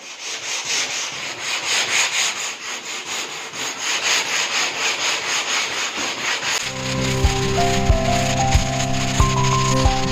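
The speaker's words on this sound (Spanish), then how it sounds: "vamos a dar un pequeño lijado para que el tejido y la resina tenga una buena adherencia a la madera" A wooden kayak hull is hand sanded lightly in a steady rhythm of soft rasping rubs, close and continuous, before music enters with faint sanding still underneath.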